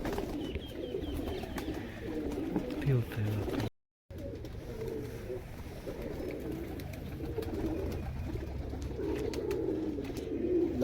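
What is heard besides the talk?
breeder and flying pigeons cooing on a rooftop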